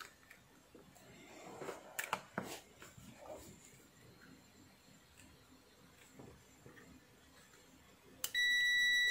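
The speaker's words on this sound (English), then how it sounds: "Set multimeter to continuity. Connect to the input terminals." A multimeter on continuity setting tests an electric geyser thermostat: after faint handling clicks and rustles, a steady high electronic beep starts abruptly near the end and holds.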